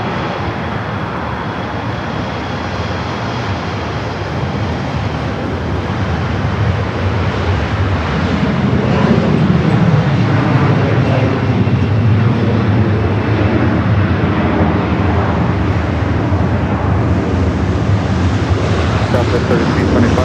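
An airliner landing on runway 24 right at LAX, a loud, steady broadband jet roar that swells partway through and holds, with wind buffeting the microphone and radio talk underneath.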